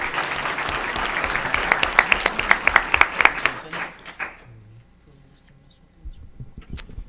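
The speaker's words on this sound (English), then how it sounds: "Let's give him a round of applause" A crowd at a school board meeting applauds with distinct sharp claps, fading out after about four seconds into a quieter room with faint movement noises.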